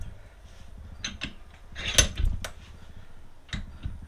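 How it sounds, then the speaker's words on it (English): Steel-handled vise fitted with soft jaws being tightened down on a motorcycle front fork, giving a few scattered metallic clicks and thumps with a sharper knock midway, close and fairly quiet. "soft jaws on the vise. Going to tighten this down."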